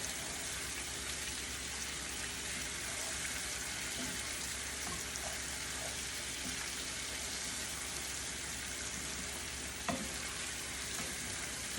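Eggplant and egg frying in a pan give a steady, close sizzle throughout, with a few faint scrapes of stirring and one brief clink near the end; no one speaks.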